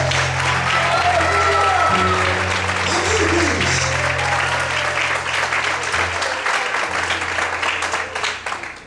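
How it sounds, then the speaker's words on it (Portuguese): Sustained applause from a church congregation fills the hall, many hands clapping together over a low held keyboard chord that shifts, the clapping thinning slightly toward the end. "Será que você pode aplaudir a Deus?"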